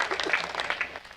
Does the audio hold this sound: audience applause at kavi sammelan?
yes